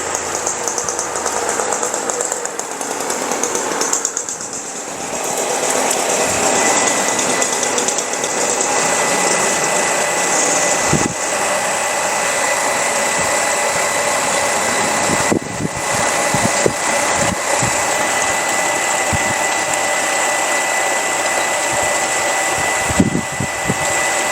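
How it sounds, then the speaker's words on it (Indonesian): A Shimizu electric water pump runs steadily while filling a water tank, a loud continuous mechanical whir with tonal hum and rattling, punctuated by occasional clunks and knocks over its long run. "sekarang perhatikan pompa akan saya jalankan, lalu kita perhatikan bagaimana pompa ini mengisi air di dalam toren ini"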